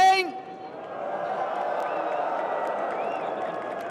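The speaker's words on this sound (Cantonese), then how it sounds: "嘉應高升嘅支持者歡呼聲。" Racegoers at a Hong Kong racecourse cheer for the horse Ka Ying Rising before the Centenary Sprint Cup, a steady, broad crowd roar following a brief voice at the start, with a commentator talking over it.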